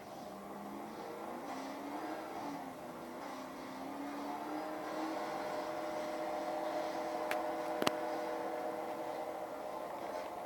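The Batmobile's engine in Batman Arkham Knight drives along at a steady, droning hum that slowly rises in pitch, with a sharp brief clank near the end.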